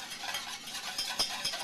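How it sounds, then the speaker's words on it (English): Whisking a chocolate dessert mixture by hand in a bowl, a quick, close run of soft scraping swishes with a few brighter metallic ticks, over a short moment with no talk. "So, we're going to just keep whisking."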